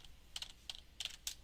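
Computer keyboard keys tap in a short, quiet burst of about five keystrokes, irregular and close, with no voices.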